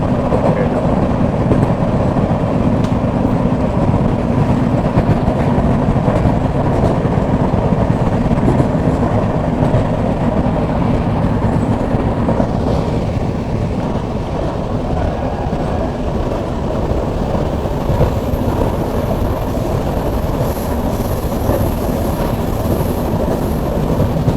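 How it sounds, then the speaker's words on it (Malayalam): An express train passes on the opposite line, heard from aboard a moving passenger train: a steady, loud rumble of wheels and carriages that continues throughout, with faint voices now and then. "ഓപ്പോസിറ്റ് ലൈനിൽ കോട്ടയം നിലമ്പൂർ എക്സ്പ്രസ് പോകുന്നുണ്ട്."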